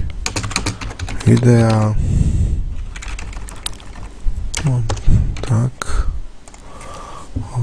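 Computer keyboard typing of a short note, quick irregular key clatter running under and between a man's speech in Slovak, close and moderately loud.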